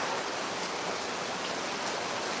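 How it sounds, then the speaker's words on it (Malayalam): Heavy downpour of rain, a steady dense hiss with no break, fairly close and alone. "ഒരു രക്ഷയില്ലാത്ത മഴ"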